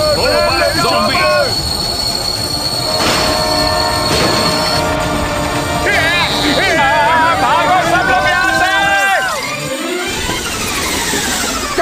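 Cartoon train screeching as it brakes to a stop, high squealing wheel tones sweeping and wavering over a busy rumble, with babbling voices and music mixed throughout.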